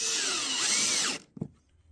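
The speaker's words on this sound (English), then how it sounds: "I'm going to put a couple of screws in the back here as well" A power drill drives a screw into the back of a wooden profile template for plaster moulding, producing a loud, close steady whine for about a second that stops abruptly, followed by a faint knock.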